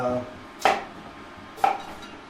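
Two crisp knife chops through potatoes being cut into quarters on a cutting board, spaced about a second apart, close and clear with a little ringing after each strike.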